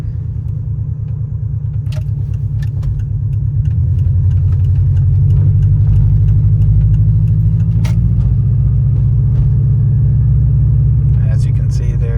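A car idles and then drives slowly through a neighborhood at night, its engine rumbling steadily up close with small rattles and clicks, while a person talks over it.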